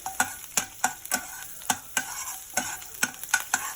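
Chopped garlic fries in hot oil in a pan while a spoon stirs it in quick, regular strokes, each scrape sharp and close over a steady sizzle.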